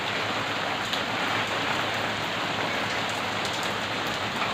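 Steady rain pours down outdoors in Nowshera, a dense, even hiss of drops hitting surfaces that holds without a break throughout.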